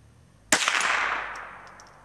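A single sharp shot from a Marlin Model 60 semi-automatic .22 rifle fired at a target, a loud crack followed by a ringing tail that fades over about a second and a half, with no talk.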